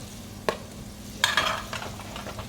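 Shrimp are lifted out of a hot pot, with a low background sizzle broken by a sharp clink and a brief burst of hissing and scraping, close by.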